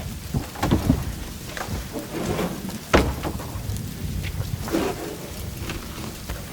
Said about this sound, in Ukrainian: Який сильний дощ.